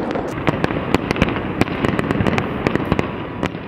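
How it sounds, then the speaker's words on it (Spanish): Fireworks burst at a centennial city celebration in Villa Carlos Paz, a dense, relentless barrage of sharp cracks and booms in quick irregular succession, loud and close, with no talk. "la ciudad se iluminó con una batería infinita y ensordecedora de fuegos artificiales"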